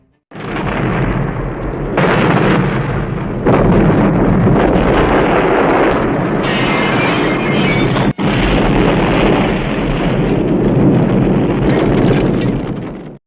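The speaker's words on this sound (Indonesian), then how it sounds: "John Rambo terlihat dengan sengaja menabrak SPBU Mini, lalu turun dari kendaraannya, mengambil tokai dan meledakkan tempat itu" Film scene of a mini gas station deliberately blown up: a huge, sustained roaring explosion with rumbling debris and wind-like blast noise filling the whole stretch, loud and continuous.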